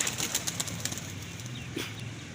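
A flock of fifteen rooftop pigeons flutters and flaps its wings in flight, a soft, continuous rustle of wingbeats heard at moderate distance with faint bird sounds mixed in.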